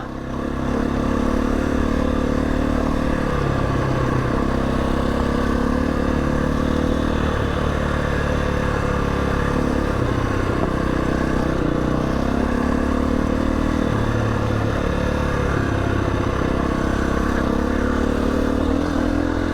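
Steady motorcycle engine drone while riding the rough Old Coach Road in the Lake District, continuous and close, with clattering and scraping from the track underneath and no talk.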